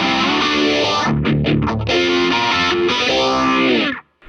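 Electric guitar played through a vintage Made-in-Japan Boss modulation pedal, with sustained distorted chords that swell and warble, ringing continuously before cutting off abruptly near the end.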